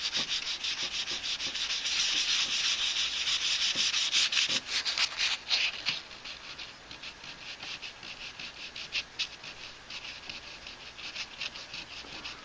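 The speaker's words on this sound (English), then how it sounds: "2000 sandpaper, so it's not very abrasive, and it won't damage the black paint on the panel as much" Fine 2000-grit sandpaper rubs back and forth over a black-painted radio panel on a Hallicrafters SX-28A receiver, a soft, close, steady scratching in repeated strokes that lighten midway through.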